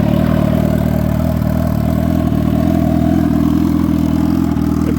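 A 600hp turbocharged Suzuki Hayabusa engine, balancer removed, runs steadily just after starting, a loud, even droning idle with a constant low rumble and no talking over it.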